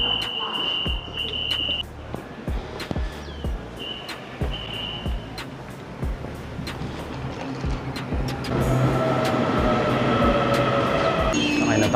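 A commuter train arrives and runs along the line, a steady broadband rumble with clattering impulses and a sustained whine, swelling louder and fuller toward the end as it passes close by.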